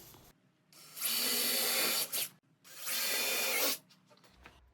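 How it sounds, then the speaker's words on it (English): A screw gun drives 1.5-inch pan head pocket screws into fence pickets for a heavy-duty garden planter box. Two close, sustained whirring bursts are separated by a short pause, with ratchet-like clicks at the end and no talk. "Notice I'm not going wide open with this screw gun."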